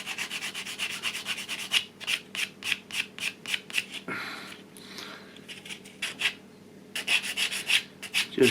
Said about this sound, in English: they're ready for clean up, which I should do with my trusty sponge